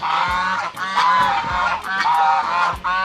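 Geese honk repeatedly on a farm in Dinalupihan, loud and close, with overlapping nasal calls coming in quick bursts and no talking.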